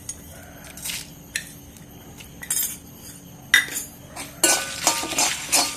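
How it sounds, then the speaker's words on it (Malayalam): A metal spoon scrapes and clinks in a pan in short, irregular bursts while chillies and coriander are roasted in a kitchen. The stirring comes close and fairly crisp over a quiet background. "മുളകും മല്ലിയും ഒരുമിച്ച് വറുക്കാം."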